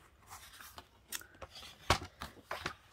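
Scissors cutting card stock while making an easel card, a few close, crisp snipping crunches spread unevenly over a few seconds, quiet with no talk.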